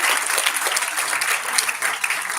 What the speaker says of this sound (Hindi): एक बार पुनः तालियां दे दीजिए